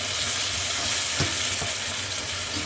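Chicken and cashew nuts stir-fried in a hot pan give a steady, close, dense sizzle with small stirring scrapes, and no voices.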